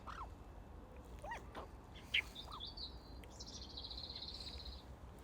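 Birds chirp and call outdoors, including a sustained trilling song and scattered short tweets over a constant low background hum.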